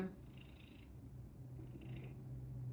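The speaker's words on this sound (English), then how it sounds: "she's really purring." Close, soft cat purring, a low rumbling rhythm that rises and falls with each breath.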